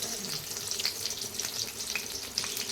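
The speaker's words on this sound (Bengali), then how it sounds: "এখন বেগুন ভাজা চলছে।" Eggplant slices frying in hot oil give a steady, close sizzle with faint crackles and pops throughout, alone without talk.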